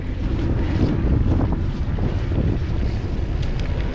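Strong wind buffets the microphone on a railway bridge crossing Lake Hume, a loud, steady rumbling gust with no break.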